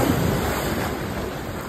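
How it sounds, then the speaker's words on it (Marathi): Sea waves at Ganpatipule beach in Konkan make a steady, broadband roar of surf that stays close and fairly loud across the whole short stretch, with no voices over it. "बघा लाटा आलेल्या आहेत."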